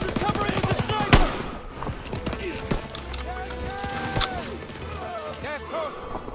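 Rifle and machine gun fire in a World War II battle in Call of Duty WW2 crackles steadily with sharp individual shots, mixed with shouted voices and battlefield commotion.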